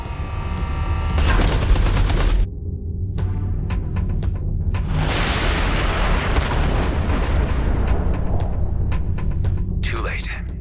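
Repeated artillery blasts and gunfire in the space combat game Everspace 2, loud and close, a long roaring barrage followed by a string of sharp cracking impacts.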